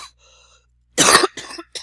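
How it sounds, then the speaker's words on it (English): A person with a lingering cough gives one sharp, harsh cough followed by two shorter ones, close and loud against near silence, with a faint tonal hum just before. "this week you're going to hear a lot of me coughing."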